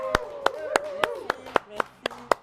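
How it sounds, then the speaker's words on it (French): Steady single claps ring out in an even beat on a French television variety show set, about nine crisp hits with a faint voice or tone running underneath. "Applaudissements, s'il vous plaît."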